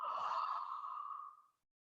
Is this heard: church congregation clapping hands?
no